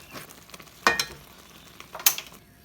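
Rougaille stirred in a pan, a soft frying sizzle broken by two sharp scraping strokes of a utensil against the pan, close by with no talk.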